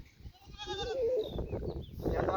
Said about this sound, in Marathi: साधारणतः जर बोकड पाहिले तर 50 ते 60 बोकड आहेत आणि छोटे छोटे पिल्ले वेगळे आहेत